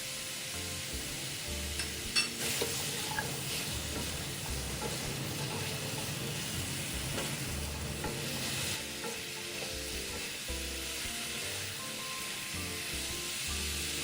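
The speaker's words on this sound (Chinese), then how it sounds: "炒香，炒勻後" Garlic cloves, a cinnamon stick, bay leaves and star anise stir-fried in a wok for braised abalone with pork belly, a continuous soft sizzle and hiss under rhythmic spatula scraping, no speech.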